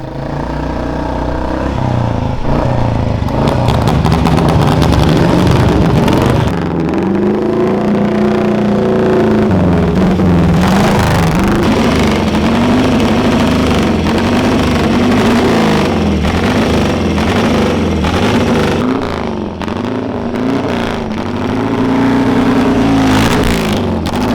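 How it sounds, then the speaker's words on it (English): Loud racing motorcycle engines, including a Honda RC374 replica, roar and rev repeatedly, rising and falling in pitch with rough, crackling idle between blips, sustained throughout. "We're going to fire up the Goodwood bikes."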